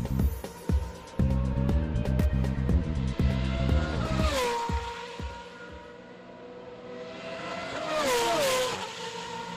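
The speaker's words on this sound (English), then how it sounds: "This is the sound of an A1 Grand Prix car." An A1 Grand Prix race car engine revs hard through rapid gear changes, the pitch climbing and dropping as the car passes close by, then fading and swelling again with a second loud pass.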